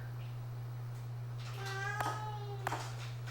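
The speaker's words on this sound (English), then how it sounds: "Hear my cat meowing here in the arcade" A pet cat gives one clear, drawn-out meow in the middle, followed by a shorter cry, heard close over a steady electrical hum in a home arcade.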